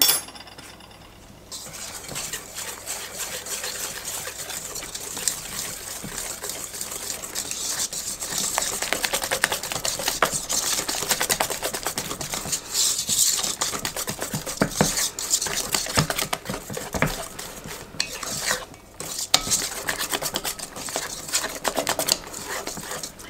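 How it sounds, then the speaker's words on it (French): Continuous close scraping and clinking of vanilla being stirred into a batter for apple pudding chômeur, a busy textured mixing sound that runs throughout without talk. "on va mélanger tout ça"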